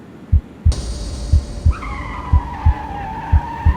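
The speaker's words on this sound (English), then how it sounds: "He immediately swerved the car around, avoiding the accident by just a little." A car swerving to dodge an oncoming vehicle in heavy gusting wind: a sudden loud tire screech that shifts into a sustained squeal, over a rhythmic series of low thumps, close and prominent with no voices.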